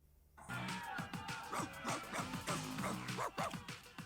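A dog barks and yips in a quick series of sharp, close calls with whimpering tones in an animated BoJack Horseman episode, following a brief quiet start.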